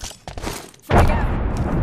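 A frag grenade goes off in the video game Apex Legends: a few light thumps, then a sharp burst that turns into a sustained, crackling roar, close and fairly loud.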